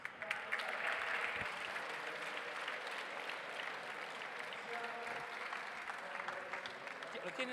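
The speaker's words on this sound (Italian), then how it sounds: "Prego un applauso" Continuous applause from an audience at a main-stage awards event fills the whole stretch, dense clapping at an even level, with faint voices running underneath.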